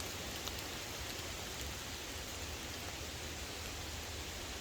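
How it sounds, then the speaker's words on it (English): Steady rain falling on a camping tarp, a dense, even patter that fills the space without a break, with no voices. "hiding here under the tent, under the tarp, out of the rain"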